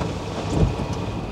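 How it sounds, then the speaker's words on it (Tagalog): Heavy typhoon rain around Aurora Boulevard near the Marikina River: a dense, steady hiss of downpour with a short, low thunder rumble swelling midway through the brief stretch. "Pabugso-bugso talaga yung ulan eh."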